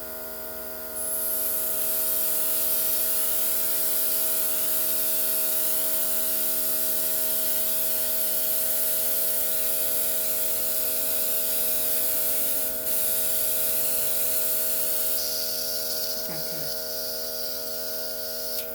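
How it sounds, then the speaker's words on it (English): A steady, loud hiss of a Luminess makeup airbrush spraying continuously, with a faint electric hum underneath and a brief higher-pitched shift near the end. "You can definitely hear the force of the airbrush system is a little bit stronger"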